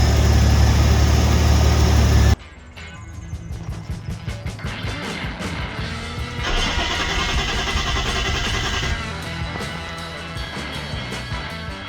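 Nissan Skyline engine running as the car is moved, with a loud rough start and then a steady, rhythmic idle with changing revs, close up and with no talk.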